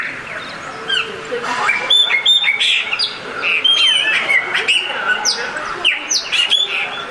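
A graúna, the Brazilian blackbird, sings bright whistled phrases and sharp chirps in quick succession, close and clear, with a few squawk-like notes mixed in.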